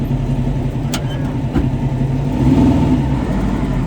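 A small, light sand car with a locked rear end runs its engine at close range, a steady loud mid-pitched drone that lifts into a brief rev toward the end, with no talk.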